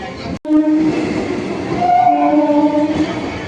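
A crowded local train on the Baruipur–Ballygunge line rumbles close by, with long tonal horn blasts sounding early on and again toward the end, and no voices.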